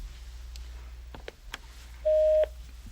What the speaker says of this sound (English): Jack, if you just press the record key on any phone, you'll record a memo.